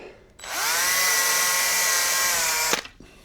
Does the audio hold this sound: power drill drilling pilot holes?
yes